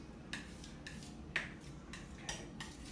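Palette knife working oil paint on a palette, about six crisp light scrapes and taps spaced roughly half a second apart, close and quiet with no talking.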